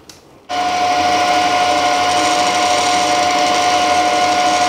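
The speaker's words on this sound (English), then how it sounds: "I'll just give this face a very quick light skim." A milling machine takes a quick light skim cut across a face on a Vevor milling vice project with an alloy steel screw, a loud continuous steady whir with a fixed tone that starts abruptly and runs unbroken.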